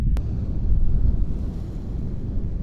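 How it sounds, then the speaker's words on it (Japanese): Strong wind buffeting the microphone on the Awaji Island coast, with rough sea waves surging beneath it as a loud, continuous low roar and a brief knock near the start, no voices. "今日も結構風が強いですね。 海が少し荒れています。"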